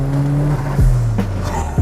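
A turbocharged ninth-generation Toyota Corolla Altis engine pulls hard under acceleration, loud and close, its pitch rising then dropping through a quick gear change, with a faint squeal.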